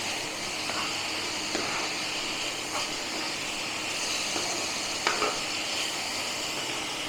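Grated coconut and date-palm jaggery powder stirred together in a pan for ros puli pitha, giving a soft continuous hiss with faint, occasional spatula scrapes, steady and moderately close.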